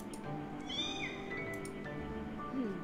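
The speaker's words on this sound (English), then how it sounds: "That wasn't even a howl, that sounded like a cat meow." A creature in the mobile side-scrolling action RPG Magia lets out a drawn-out, cat-like meowing howl, clear and fairly close over quiet game background sound, with a couple of rising and falling wails.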